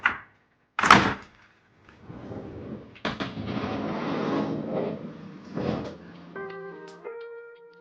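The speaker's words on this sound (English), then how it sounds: "The door can be fully open." A house door at a T-junction home swings fully open onto a courtyard: a sharp knock or thump, then a long scraping slide and a clunk as it reaches the end, with no one speaking.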